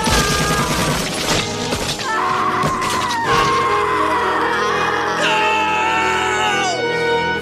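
Gunfire in a Vietnam War film scene, sharp bursts and bangs mixed with dramatic orchestral score and crashing effects, loud and dense throughout.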